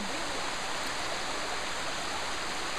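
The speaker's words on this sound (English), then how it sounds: "And this waterfall seems particularly apt." Water-Break-Its-Neck Waterfall roars as a steady, dense wash of falling water, a constant full-bodied hiss with no pauses or voices.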